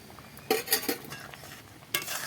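Spoon stirring turmeric into a pan of tangy-sweet biloti amra (hog plum) chutney with cashews and raisins, a few short scraping strokes with a faint background sizzle.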